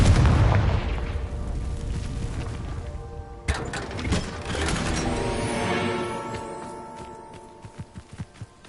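Confringo fire spell explosions in Hogwarts Legacy: a dense roar of blasts and crackling debris up front, a sharp new burst midway, then fading rumble with a few short crisp impacts near the end.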